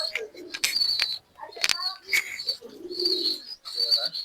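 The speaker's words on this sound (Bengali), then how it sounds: "এই যে এক জোড়া কবুতর, প্রিন্স কামাগার নর আর মাদিটা কামাগার।" A pair of Kamagar pigeons, a Prince Kamagar male and a female, kept in a loft, coo softly and repeatedly between sharp chirps, clicks and rustles close by, with a voice talking at times.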